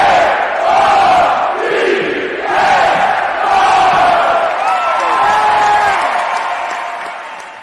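A Louisville fan crowd roars and whoops in a loud swell of cheering that rises in waves and gradually tapers off toward the end.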